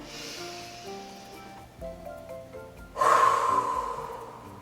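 A breath in and a strong blow outward during a children's yoga exercise: a soft, breathy buildup, then a loud, sustained airy exhale near the microphone, over faint background music.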